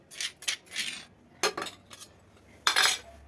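Fried tempering spices, fenugreek seeds, mustard seeds, cumin and dried chillies, are scooped onto a plate in a few quick metallic scrapes and clinks of a spoon against the plate, close and alone.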